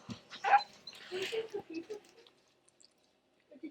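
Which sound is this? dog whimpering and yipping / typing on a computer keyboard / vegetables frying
dog whimpering and yipping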